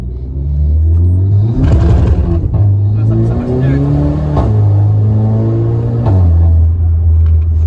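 A Volkswagen Polo 6 GTI engine, warm after running, revs and pulls with a loud, rising and falling roar, the pitch climbing and dropping several times while people talk over it inside the car.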